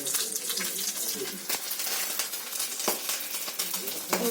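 Whole spices hit hot white cooking oil for tempering in a pan, crackling and sizzling with irregular pops and spits over a fluctuating hiss, fairly close.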